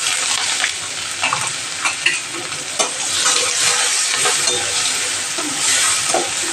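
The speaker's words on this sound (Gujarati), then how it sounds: "આપણે ડુંગળી નાખી દઈએ." Chopped onion sizzling and frying in hot oil in a pan with spices, a steady crackling hiss throughout with occasional stirring and clinks, close and loud, no talking.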